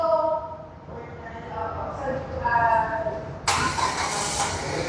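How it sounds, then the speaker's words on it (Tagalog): A Jetour Dashing gasoline car starts by remote, its engine cranking and catching into a steady idle while someone talks nearby, followed by a sharp burst of broadband noise near the end. "Mag-start yung sasakyan gamit yung remote."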